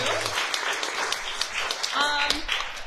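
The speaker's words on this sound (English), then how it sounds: "Give a round of applause to them." A crowd at a baronial court gathering breaks into applause for the participants, dense clapping from many hands sounding under a speaking voice and then tapering off.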